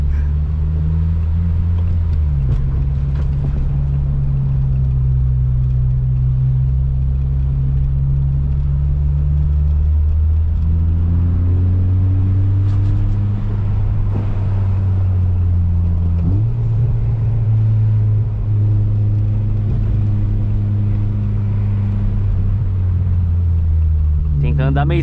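Honda Civic Si descending a mountain road, its engine droning loud and steady with rising and falling pitch as gears change, road rumble underneath throughout.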